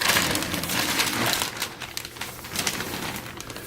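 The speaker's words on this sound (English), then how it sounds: "So let's go ahead and get this unbox, unwrap, whatever you call it" Plastic packaging around a North Face men's small light puff jacket is pulled open and unwrapped, giving a close, continuous crinkling and rustling that swells and eases in bursts, with no voices.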